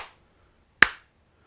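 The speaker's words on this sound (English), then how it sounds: "and I've been clapping my hands" A single sharp hand clap sounds close and loud, with a short decay into silence, used as a sync marker for a two-camera shoot.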